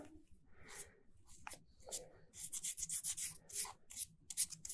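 Alabaster being wet-sanded by hand with 240-grit sandpaper, heard as soft, close scrubbing rubs in uneven short strokes that grow busier toward the end, faint and without speech.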